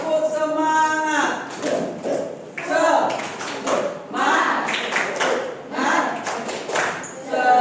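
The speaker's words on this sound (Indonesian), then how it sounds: "Yuk, tepuk semangat." A classroom of students doing a rhythmic spirit clap (tepuk semangat), with bursts of clapping in a steady pattern mixed with group voices chanting along.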